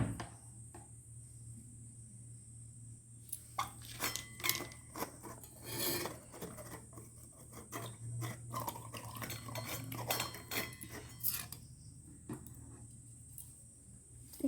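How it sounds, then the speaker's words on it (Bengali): Fresh ginger is grated by hand, rasping in quick repeated scraping strokes with small metallic clinks. The sound is close but fairly quiet over a low background hum, and nobody speaks. "একটু আদা গ্রেট করে নেওয়া হবে"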